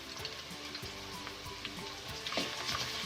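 Ginger garlic paste fries with light-browned onions for a black chickpea curry, giving a steady close sizzle with faint scattered pops and small stirring clicks, and there is no talking.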